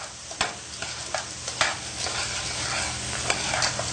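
Spoon stirring about a pound of fresh peas in a cooking pot, a steady soft scraping with a faint sizzle underneath and a few sharper clinks against the pot.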